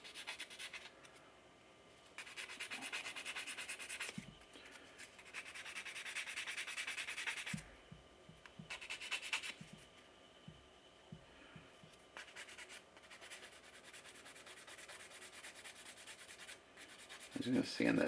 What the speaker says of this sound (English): I'm going to sand this key down a little bit right here so it goes in